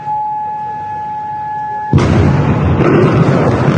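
A missile strike explosion in news footage, a sudden loud broadband blast that cuts in halfway through after steady tones and hiss, then a sustained roaring rumble that continues to the end.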